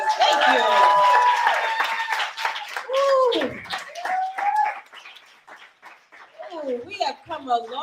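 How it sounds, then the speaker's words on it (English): An audience claps for the panelists at an environmental justice roundtable, a dense patter of hands mixed with loud whoops and cheering voices that fades and then swells again near the end. "Give our panelists a round of applause"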